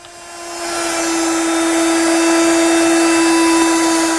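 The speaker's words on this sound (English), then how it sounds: "I'll do that using my router with a chamfering bit" A router fitted with a chamfering bit spins up and runs steadily as it cuts along an oak edge, producing a loud, sustained high-pitched whine with no talk.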